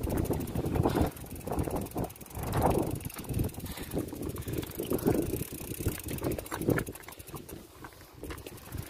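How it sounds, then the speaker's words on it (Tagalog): Cold wind buffets the microphone outdoors, gusting in uneven bursts of low rumble with faint rattling in the background and no talk. "Ang lamig ng hangin."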